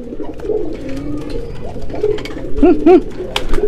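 Soft low cooing of a pigeon at a bird market, a few rolling coos standing out near the end over a murmuring background with scattered noises.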